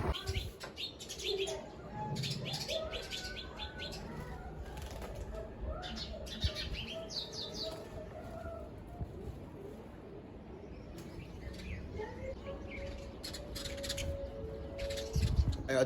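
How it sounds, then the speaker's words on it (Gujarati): Sparrows chirp outdoors, bursts of small bird calls coming and going over a quiet background, with some distant bird activity. "ચકલીઓ બહુ બોલે અહીંયા"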